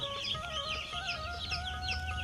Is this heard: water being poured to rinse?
no